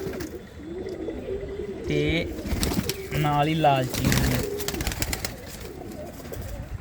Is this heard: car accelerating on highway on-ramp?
no